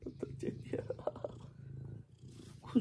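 Domestic cat purring close up, a soft rhythmic rumbling pulse running under quiet, murmured speech from a person nearby.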